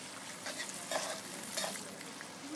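Onions frying in a pan and being stirred as they lightly brown, a soft, steady sizzle with gentle scraping strokes, fairly quiet and without talk.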